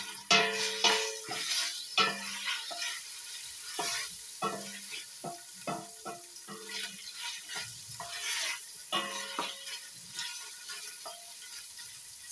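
Beef steak cooks in vegetable oil in a pot, with a bright sizzle and repeated stirring knocks and scrapes of a utensil in an uneven rhythm, close and fairly loud, with no voices.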